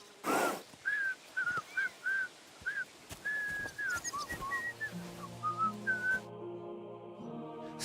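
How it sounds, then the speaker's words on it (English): A player in Kingdom Come: Deliverance 2 whistles for a horse, a series of short, bright whistled notes in a lilting pattern, followed by a soft music cue rising underneath near the end. "Are you whistling just for fun?"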